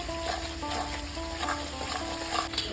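Spiced masala sizzles and fries in oil in a pan for an egg masala curry as chopped green chilli goes in, a continuous close crackling hiss with light stirring scrapes.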